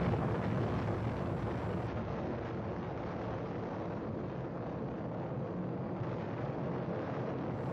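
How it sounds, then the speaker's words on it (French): A nuclear explosion from Stanley Kubrick's film Dr. Strangelove roars as a dense, continuous low rumble with steady broadband blast noise, loud and sustained throughout, with no voices. "On a l'explosion nucléaire."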